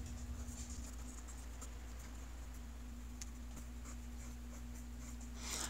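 Writing on a board during a physics lecture gives quiet, scattered scratchy strokes and taps over a steady low electrical hum, close but faint, with no speech.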